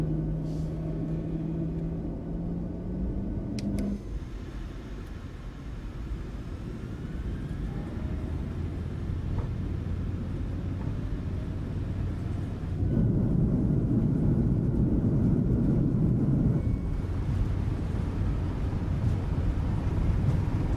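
Boris Audio Works sound set for the PMDG 737 in FS2020, rolling on the runway: a steady low jet engine roar with rumble that swells louder partway through, continuous and close.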